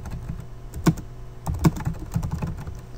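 Code is typed on a computer keyboard in short bursts of close, crisp key clicks with a few louder strikes and brief pauses, no voice.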